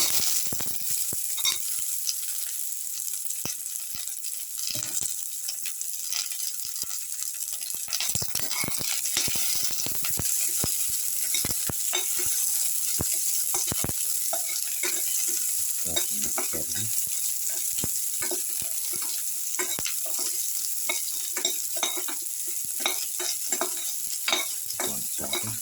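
Shallots sauté in a hot pan for a cumin and chili kara chutney, with a steady loud sizzle throughout and frequent scraping, rattling stirs of a spatula against the pan.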